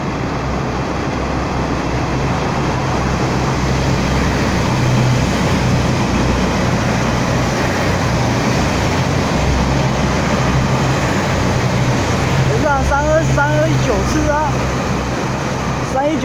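A Taiwan Railway DR2900-series diesel railcar set, DR2908 coupled with DR2907, rumbles past in a steady low drone that holds through the whole stretch, with a few brief tonal squeals near the end and some faint talk in the background.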